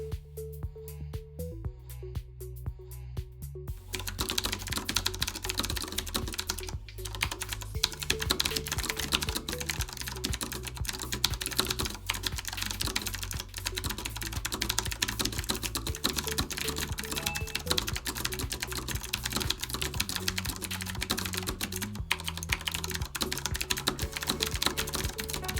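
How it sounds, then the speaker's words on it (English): Rapid, steady typing on a Diviner mechanical keyboard during a typing test, a dense stream of close, crisp key clacks continuing alone for about twenty seconds. "There is a typing test. I'm gonna load one up."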